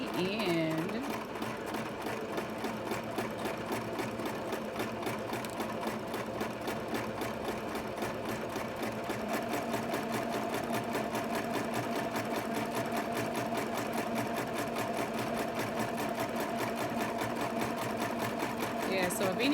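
Sewing machine stitching embroidery on a child's outfit, a fast steady mechanical whir and needle rattle running without pause throughout, with a voice talking over it.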